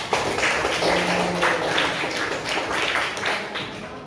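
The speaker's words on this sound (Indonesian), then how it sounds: "Bagus ya jawabannya, tepuk tangan dulu buat." A classroom group claps together, a brief scattered round of applause at moderate distance with a light, papery texture, fading slightly toward the end.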